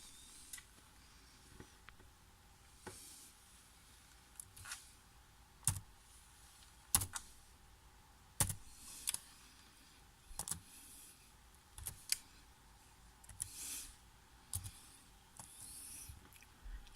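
Slow one-finger typing on a computer keyboard running Ubuntu Linux, sparse irregular clicks and taps spread out with long gaps, quiet and close in a hushed room without speech.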